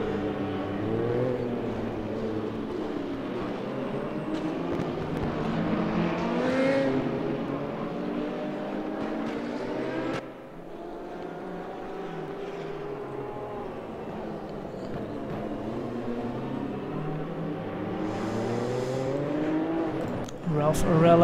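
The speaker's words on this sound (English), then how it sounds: "Great sounds there by the Audis." Audi GT3 race cars in the RaceRoom sim at Spa-Francorchamps scream through the gears, with engines rising and falling in pitch during close racing and sharp upshifts cutting in, loud and continuous beneath occasional commentary.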